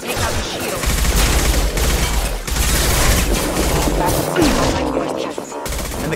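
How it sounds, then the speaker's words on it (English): Dense, continuous gunfire from a shooter video game, with rapid automatic bursts and heavy booming impacts that pound loudly without a break and drown out everything else. "It's a full-on shooter, right? Shoot them before they take out the shield."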